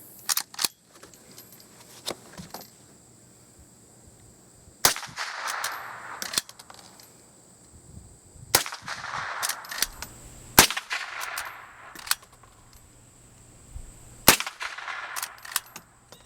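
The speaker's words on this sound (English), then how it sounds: "Let's give it a couple shots, see how she does." Several sharp shots from a Henry lever-action rifle fitted with a large loop lever, spaced a few seconds apart with quieter handling noise between them, each a loud crack with a short ringing tail.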